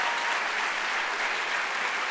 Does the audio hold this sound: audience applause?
yes